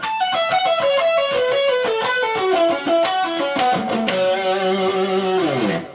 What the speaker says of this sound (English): we hit the triplet rhythm right after that